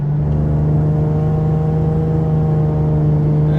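A supercharged Lexus IS 350 engine is held at full throttle from the cabin, giving a loud, steady, close engine drone with a strong, even hum and no talking.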